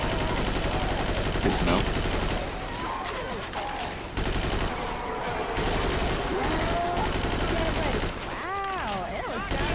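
Rapid bursts of M16 rifle fire from several players unloading on a tank in a video game, crackling continuously under a talking voice, with brief electronic warbles near the end.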